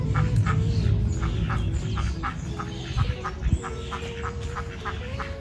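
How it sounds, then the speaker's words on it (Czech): Loud, repeated honking from a flock of geese in a garden, steady and raucous throughout, close by outdoors. "to je hrozný to, kejhání tam"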